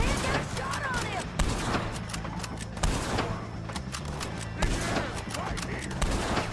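Rapid gunfire in Red Dead Redemption 2 as a shootout with O'Driscoll gang members unfolds, repeated sharp cracks and bursts scattered through several seconds, with voices talking over the shots.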